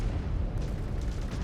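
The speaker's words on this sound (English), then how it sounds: "They got this area pre-sighted for their artillery barrages." Artillery barrage in MechWarrior 5: Clans, a steady low rumbling roar of shelling with overlapping booms, loud and sustained across the short stretch.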